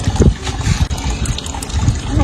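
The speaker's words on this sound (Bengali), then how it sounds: "ওখানে পানি পড়ছে।" Water pours onto garden plants being watered, a loud, close splashing and trickling stream with uneven gushes, while a voice speaks briefly over it.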